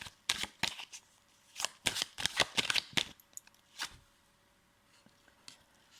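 Tarot cards are shuffled and handled in a quiet room, with a quick series of crisp riffling slaps and flicks clustered early and a few softer card sounds after.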